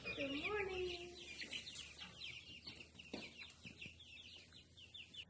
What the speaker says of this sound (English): Let's see how the chickens are doing this morning